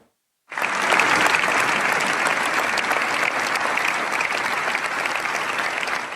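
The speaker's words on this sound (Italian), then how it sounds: "Un lungo e fragoroso applauso ha accompagnato l'ingresso della bara bianca." Long, loud applause from a packed cathedral crowd greets a white coffin as it is carried in, a dense, steady roar of clapping that starts abruptly and holds at full strength throughout.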